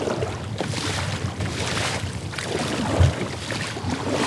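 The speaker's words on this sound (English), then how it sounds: "I'm gonna paddle back there, grab that" Kayak paddling on choppy open water near rocks, a steady wash of water and wind noise with a soft splash near the three-second mark, no voices.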